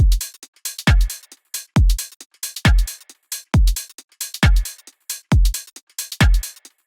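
A slow halftime drum groove, instead of house-style four-on-the-floor: booming kicks with a snare landing on the third beat, hi-hats ticking between, repeating steadily and up close.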